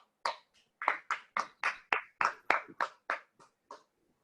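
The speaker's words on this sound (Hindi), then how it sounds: "क्यों ना जब हम लोग भाई हमारे बीच में आते ताली बजाकर हम उनका स्वागत करें।" A church congregation at a Sunday service claps to welcome a speaker, with about a dozen distinct, fairly loud handclap bursts in an uneven rhythm and no talking.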